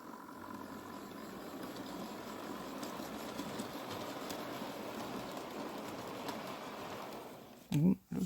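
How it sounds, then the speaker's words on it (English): A new OO gauge model locomotive pulls JIA wagons around the track, making a steady, low mechanical rumble and whir that continues evenly and then ends with a brief voice. "I'm going to run them with this new loco"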